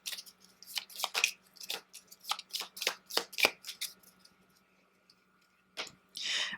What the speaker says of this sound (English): And then let's shuffle, and we'll go back with a fresh deck of patrol cards.